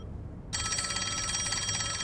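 A telephone in the video game Master Detective Archive: Raincode starts ringing after a brief quiet moment, then a continuous electronic bell trill holds steady and fairly loud to the end.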